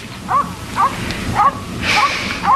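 A dog left outside yips and whimpers in short, high-pitched cries, about five of them spaced roughly half a second apart. It sounds close and moderately loud against a quiet background.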